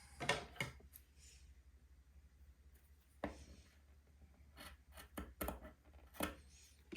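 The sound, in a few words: scissors cutting beading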